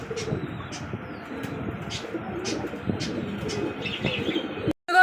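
Racing pigeons, a single racer and a hen, give a steady low murmur of cooing in a loft, with repeated brief higher chirps over it and a short dropout near the end.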